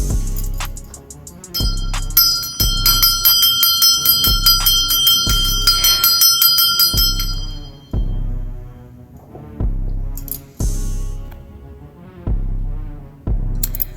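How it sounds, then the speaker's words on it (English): A bell rung repeatedly in a steady rhythm, about ten loud, ringing strikes with long metallic overtones that overlap and decay, heard close and alone. "And then we're going to go on ahead and ring the bell"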